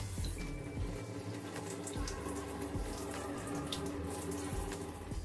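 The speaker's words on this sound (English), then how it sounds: "Thoroughly rinse the hair." Water runs steadily from a tap while a toddler's curly hair is rinsed, a continuous close splashing rush with no talking.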